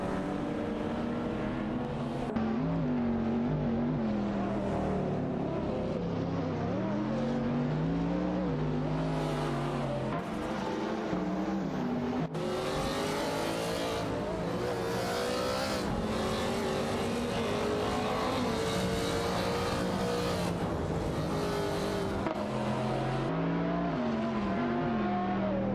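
Several race car engines roar continuously in an AI-driven racing video game, high revving tones climbing and dropping through gear changes as cars pass, loud and steady throughout with no talking.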